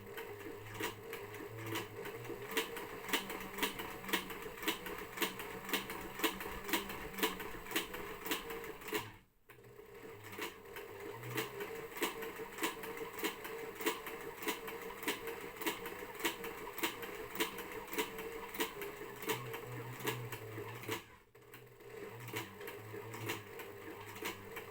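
Sewing machine stitching flat plate rigging, running in a steady rapid rhythm for long stretches with two brief pauses where it stops and restarts.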